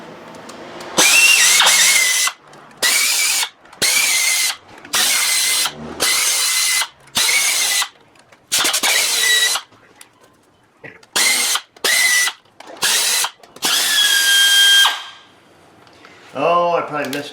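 Power tool loosening fuel rail bolts on a Dodge 3.6 engine runs in a dozen loud, close bursts of high whirring separated by short pauses, with a voice briefly at the end.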